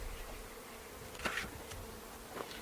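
A steady, low hum of honeybees droning inside an opened hive during an early spring inspection, continuous and soft, with a couple of brief louder passes near the listener.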